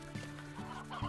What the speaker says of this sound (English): Oh, my chickens!